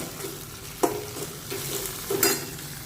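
Eggplant sautéing in a pan for Karnataka vangi bath, steady sizzling with several scraping stirs of a spatula, close and clear with no talking.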